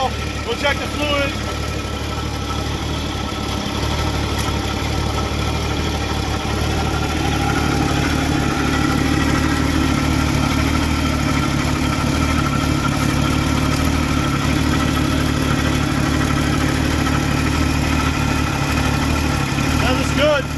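A 1970 Chevy Camaro engine, started for the first time in 23 years, idles steadily with a low, even rumble that continues unbroken throughout, with faint voices over it.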